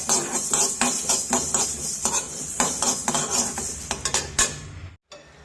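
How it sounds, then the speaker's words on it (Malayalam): Fenugreek seeds dry-roasting in a pan, stirred with a metal utensil: continuous scraping and light rattling with frequent soft clinks against the pan, close and fairly loud, stopping abruptly near the end. "പിന്നെ ഞാൻ സ്വല്പം ഉലുവ എടുത്ത് വറക്കുകയാണ്"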